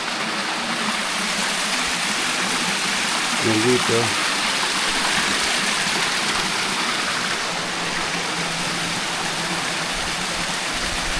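Water flowing and trickling out of the rock inside a mountain, a steady broadband rush heard close and continuous throughout, with a brief spoken remark partway through.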